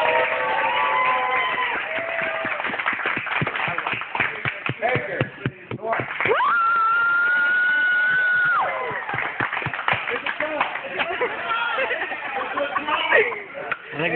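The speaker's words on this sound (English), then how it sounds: "make some noise and clap for him." Crowd at a barbershop boxing promotion cheering and clapping in bursts of rapid claps and shouts, close and lively, mixed with people talking and a sustained whistle or shout in the middle.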